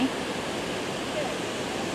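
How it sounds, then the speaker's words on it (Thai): Steady broadband roar of a nearby waterfall at Mount Rainier National Park, constant and full throughout with no pauses. "นี่นะคะทุกคนน้ำตก"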